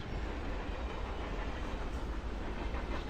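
A steady, dense rumble of a train rolling past on the Train map in a professional esports match, broad and continuous with faint rhythmic rattling, heard at moderate distance with no voices.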